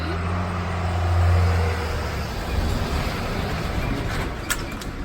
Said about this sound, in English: I know it's loud with the cars